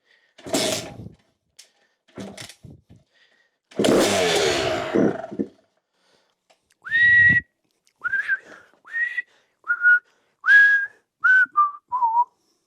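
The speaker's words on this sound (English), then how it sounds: "That's my happy whistle." Cheerful melodic whistling in a series of short rising and falling phrases, close and fairly loud, after a few clanks and a burst of mechanical noise from a 2006 Yamaha YZ250 dirt bike engine.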